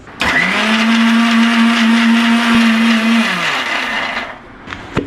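A mixer grinder grinding a spice paste of chillies, tamarind and turmeric whirs loudly at a steady high pitch for several seconds, then winds down and stops, followed by a faint clatter.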